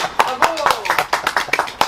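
An audience claps after a story reading, a short burst of brisk, scattered applause heard nearby, with voices speaking over it.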